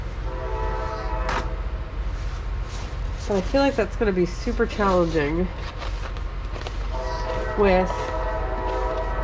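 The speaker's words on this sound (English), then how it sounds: "sorry for the train in the background" A train rolls by with its horn sounding in the background, the horn's rising and falling tones blaring through the middle of the clip while someone talks over a steady rail rumble.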